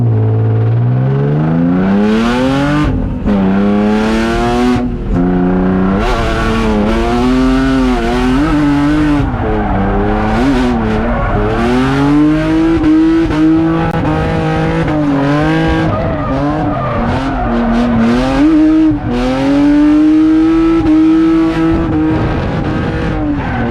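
A Nissan 350Z drift car at a drift event revving hard, engine pitch climbing and falling in repeated sweeps with tire squeal, loud and close for over twenty seconds.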